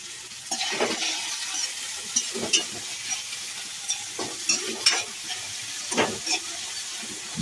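Onions fry in a pan until browning for a crab broth, a soft steady sizzle broken by frequent scraping stirs and light spoon knocks, close and without talk.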